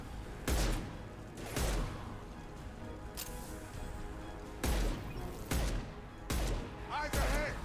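Gunfire in the video game Mass Effect 2: a series of sharp, loud shots spaced a second or so apart over a steady ambient game backdrop, with a few closely clustered reports near the end.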